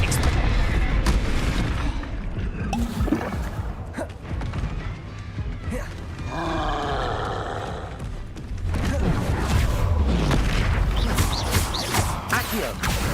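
Confringo fire spell blasts in the Hogwarts Legacy video game land as a series of heavy booming explosions with crackling debris, loud and close, mixed with game effects and a voice shouting spell names.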